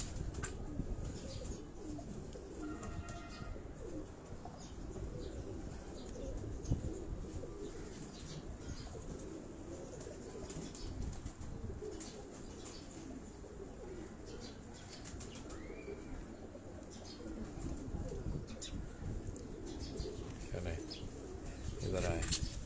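Pigeons on a rooftop in Karachi flap their wings and coo softly, with faint chirps mixed into a busy, low-level background throughout.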